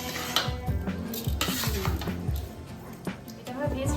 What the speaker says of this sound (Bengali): বাদ বাকি সবজিগুলো সব রাইসের মধ্যে আমরা মিশিয়ে নিই।